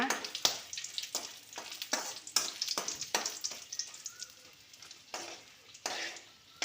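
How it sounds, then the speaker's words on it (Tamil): Asafoetida and dried red chillies fry in oil, giving a steady crackling sizzle with repeated sharp scraping stirs that come in a loose rhythm, close and clear, with no talking. "பெருங்காயங்க காஞ்ச மிளகா எண்ணெயிலே கொஞ்சம் வறுத்துக்கணுங்க"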